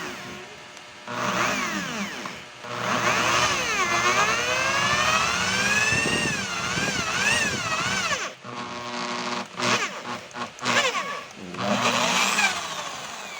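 A power driver sinks a black screw into thick steel, its motor whining and shifting pitch loudly for several seconds with brief pauses and a restart near the end.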